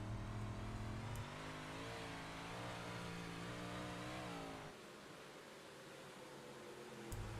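Simulated racing car engines rev and drone in a video game race with a big pack of cars, steady rising harmonic whines that shift pitch as the cars accelerate, then the sound thins to a hiss before the engines swell again.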